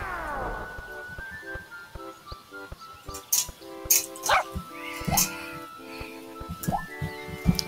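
A puppy in a Flash video game lets out short yips and whimpers in scattered bursts among chiming game music tones.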